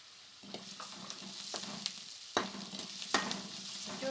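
Coarsely ground red chilies fry in a pan for mango chitranna, a soft steady sizzle broken by a few sharp scraping stirs of the spatula, close and alone with no voices.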